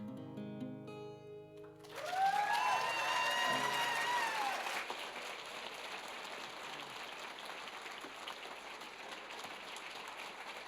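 Audience applause at a commissioning and funding services event swells after a short musical passage and carries on as a steady, even wash of clapping to the end.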